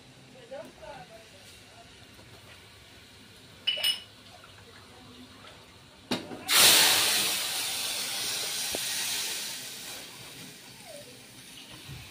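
Cooked dal is poured into a hot tadka seasoned with red masala, setting off a sudden loud sizzle that hisses strongly and then slowly fades over several seconds after a quiet stretch.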